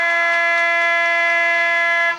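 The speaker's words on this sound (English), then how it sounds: "As the siren rings out for quarter time" A quarter-time siren at an amateur Australian rules football semi-final sounds as one loud, steady, sustained electronic tone with strong harmonics, held unbroken for about two seconds before cutting off.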